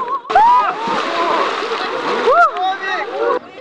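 A person plunges into icy water during an outdoor Epiphany celebration, with a loud splash and sloshing churn lasting a few seconds as excited voices and shouts carry over the water.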